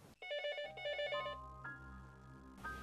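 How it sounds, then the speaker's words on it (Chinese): A telephone rings with bright electronic bell-like tones, a couple of short ring bursts sounding clearly and alone with no talking. "让我们回到电话响起的那一刻"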